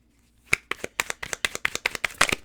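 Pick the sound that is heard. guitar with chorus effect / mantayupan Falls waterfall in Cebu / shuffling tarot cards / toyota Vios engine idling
shuffling tarot cards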